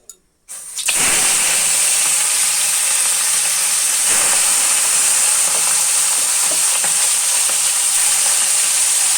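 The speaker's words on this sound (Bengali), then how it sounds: "তেল গরম হয়েছে। এখন আমি মাছগুলো ভাজার জন্য ছেড়ে দিব।" Fish dropped into hot oil in a wok, bursting into a loud, continuous hissing sizzle after a short quiet moment, with occasional crackles and pops through the rest.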